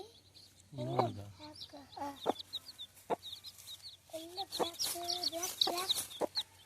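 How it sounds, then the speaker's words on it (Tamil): Chicks and chickens clucking and peeping nearby in short, irregular bursts, with a few sharper calls scattered among them. "அப்பா என்னோட கோழி குஞ்சு"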